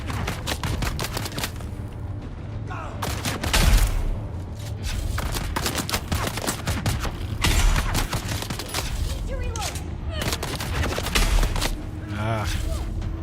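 Sniper and automatic gunfire rattles through a firefight in Dune: Awakening, with repeated loud bursts and sharp shots layered over a low rumble, while a player talks over the action.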